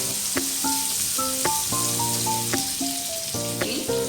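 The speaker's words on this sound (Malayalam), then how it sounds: "എണ്ണ ഒന്ന് ചൂടായതിന് ശേഷം നമുക്കിതിലേക്ക് ചെറിയൊരു സബോള കട്ട് ചെയ്തിട്ട് ഇട്ട് കൊടുക്കാം" Chopped onion frying in hot sunflower oil makes a continuous sizzle, with bright clinking tones and light stirring clatter running over it.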